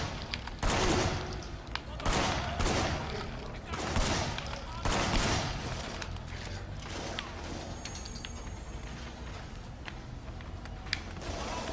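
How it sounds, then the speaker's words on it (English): Rapid gunfire in the shooter game Payback, dense bursts of shots and mechanical clatter loud and continuous throughout, ending in scattered rattling. "I'm shooting another canister."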